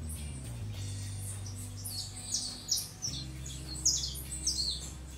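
Pet doves and button quail chirp and trill in a series of high, quick calls over a low steady hum, close and moderately loud indoors.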